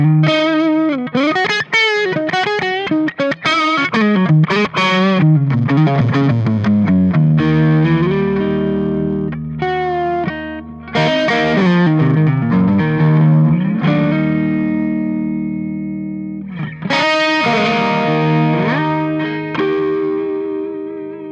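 Victory Lunchbox guitar amp played as a continuous loud electric guitar, its tone hovering at the edge of breakup with light crunch, sustained notes, ringing chords and a touch of feedback, no voices.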